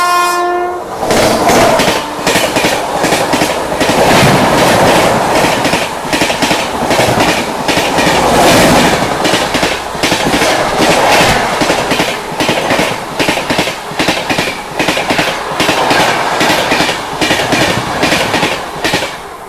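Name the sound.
Seemanchal Express train overtaking on the tracks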